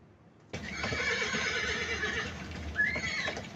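A horse whinnies loudly and close by, a long shaking neigh that rises and falls for about three seconds after a short quiet start.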